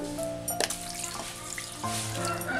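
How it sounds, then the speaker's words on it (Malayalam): A cup of water is poured into a pot of cooking mutton with whole spices, a close splashing pour with a few clinks against the pot, then steady running water and faint bubbling, with no voices. "ഇപ്പം ഞാൻ ഇതിൻ്റെ അകത്തേക്ക് ഒരു കപ്പ് വെള്ളമാട്ടോ ഒഴിച്ചേക്കുന്നത്."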